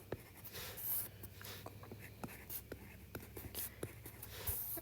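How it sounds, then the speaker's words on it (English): A pen scratches on paper as bills are written by hand in a budget planner, soft close scribbling strokes in short irregular bursts with faint background hiss. "I use this section here to just write my bills"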